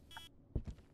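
An EMF reader in the ghost-hunting video game Demonologist gives a single short, bright electronic beep, followed by a couple of low, dull thuds.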